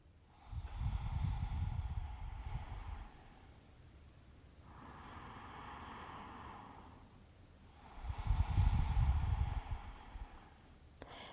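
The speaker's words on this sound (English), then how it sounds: "So just allowing the breath to flow in and flow out." Slow, deep yoga breathing: two long, audible breaths with a softer, quieter stretch between them, close and unhurried, with no talking.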